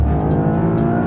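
The Lexus LBX Morizo RR's 1.6 liter turbo engine accelerates loud and close, a dense, throaty drone holding strong across the short burst with no talk.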